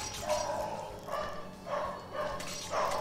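A pet dog whines and yelps in a run of about five plaintive, wavering cries at a steady pace, fairly close and with no talking over it.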